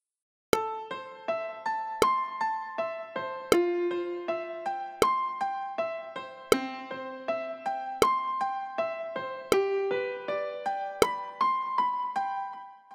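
Piano arpeggio from a produced pop song intro, rolling broken chords in a steady even rhythm, with a firmer accented note about every one and a half seconds, played alone and clear.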